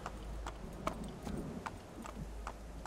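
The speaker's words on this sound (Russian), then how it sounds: "Лошадка." Hooves of a horse in Assassin's Creed II clip-clop at an even walking pace, a steady series of sharp taps set over a low background hum, moderately quiet.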